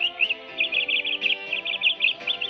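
Bright, rapid chirps from a small bird repeat in short bursts, close and clear, over a faint low background hum.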